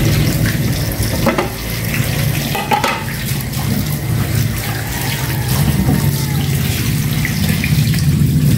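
Fish being washed in salt water under the tap makes a steady, loud splashing and running-water wash, with occasional handling knocks and no talking.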